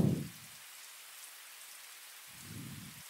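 Steady rain fills a TAROT-01 game scene as an even, soft hiss throughout, with brief low thuds near the start and end.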